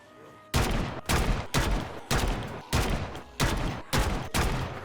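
Gunfire in the zombie-survival video game Project Zomboid: about eight sharp, loud, evenly spaced shots ring out roughly every half second, each with a short decaying tail, with no voices.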